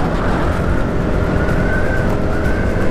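A car cruises steadily along an empty morning road, a constant engine and tyre drone with wind noise filling the whole stretch, loud and close with no pauses or voices.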